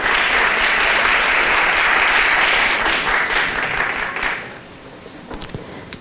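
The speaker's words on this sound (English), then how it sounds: "Can we give a round of applause for Audacious Jenny?" A loud crowd applauds at a Miss Africa pageant, dense sustained clapping for about four seconds before fading out into quieter scattered sounds.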